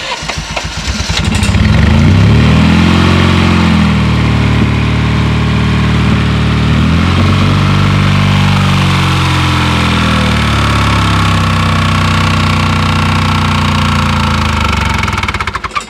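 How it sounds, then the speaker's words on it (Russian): A car engine runs loud and close with a harsh, rapid knocking clatter and a swelling, wavering drone, going on steadily for the whole stretch. "У нас двигатель застучал,"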